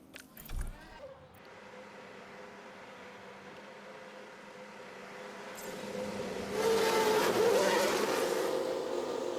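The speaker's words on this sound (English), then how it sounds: "let's get a car out on the track for it" An F1 car in the F1 Manager 22 racing game pulls out onto the track during qualifying, a steady engine drone under a hissy bed that swells louder in the last few seconds, with no voices.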